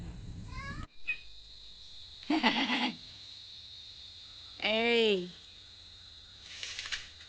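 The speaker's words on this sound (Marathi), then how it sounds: "आमची मांजर" A cat meows twice, long drawn-out calls close by, with a short chirpy sound at the start and a faint steady whine in the background, while river fish are prepared.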